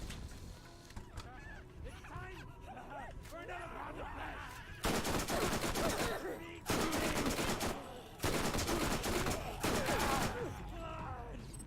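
Bursts of machine gun fire in the video game Borderlands: loud, dense rapid volleys in three or four long stretches, with quieter game noise between them.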